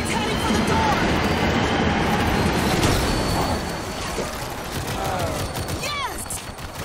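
In the World War Z video game, a moving train rumbles and clatters loudly while bursts of gunfire crackle over it and brief squealing tones cut through near the end.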